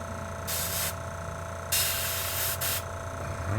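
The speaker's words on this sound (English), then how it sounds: "I'm just doing a quick spray over" Airbrush spraying paint over a figure's skin tones: two short bursts of close, soft hiss over a steady compressor hum.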